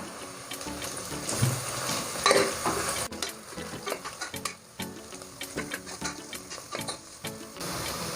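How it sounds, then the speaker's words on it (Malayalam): Cubed onion is stirred in a hot pan for a brinjal-potato curry, a steady close scraping and clinking over a soft frying sizzle, with one brighter scrape early on. "ക്യൂബ്സാക്കി കട്ട് ചെയ്ത് വെച്ചിരിക്കുന്ന സവാള ഇട്ട് കൊടുക്കാം. അതൊന്ന് നന്നായിട്ട് മിക്സ് ചെയ്തെടുക്കാം."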